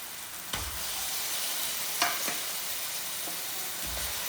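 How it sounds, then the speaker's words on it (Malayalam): Chicken goes into a hot pan and sizzles in a steady, close hiss, with a few soft stirring scrapes and clinks breaking through. "അതിലേക്ക് നമുക്ക് ചിക്കൻ ഇട്ട് കൊടുക്കാം."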